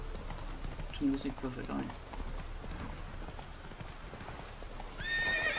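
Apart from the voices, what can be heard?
horse Roach galloping through forest in video game The Witcher 3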